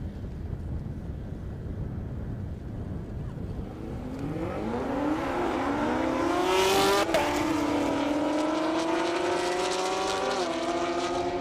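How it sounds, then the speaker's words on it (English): A Toyota Supra and a Chevrolet Camaro drag race on a half-mile airport strip, starting as a low rumble and then building into a loud rising engine scream with climbing harmonic whine as the cars launch and pull through the gears. "Now we got another Supra with a Camaro"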